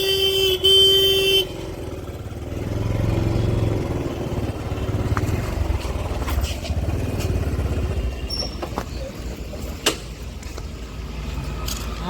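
A vehicle horn blares loudly for about a second in street traffic outside an office, followed by the rumble of passing cars and motorcycles with occasional clatters.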